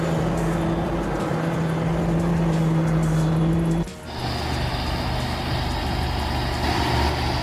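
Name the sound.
bulldozer engine maneuvering onto a lowboy trailer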